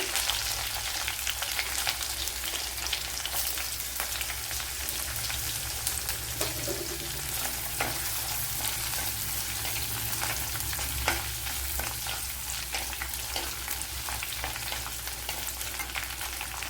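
Green chillies, ginger, garlic and popped mustard seeds frying in hot oil for a gourd curry, a dense, steady, crackling sizzle throughout, close and continuous with no talking.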